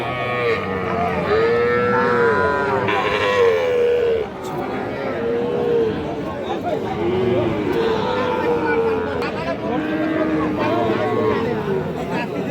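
Bull calves at a cattle market moo repeatedly in long, drawn-out calls, some near and some farther off, over a busy background of crowd chatter and people talking.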